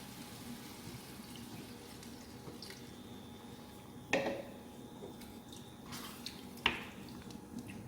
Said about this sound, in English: and 250 millilitres of water.